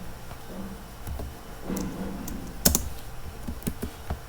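Keys clatter on a computer keyboard during a typing session, scattered soft taps with a few sharper key strikes, close up and unhurried, with no voices.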